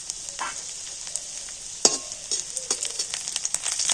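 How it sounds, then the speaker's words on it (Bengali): Garlic and ginger frying in a spoonful of white oil in a wok: a steady bright sizzle throughout, with intermittent scraping stirs and clinks growing busier toward the end. "তো একটু এভাবে ভেজে নেব।"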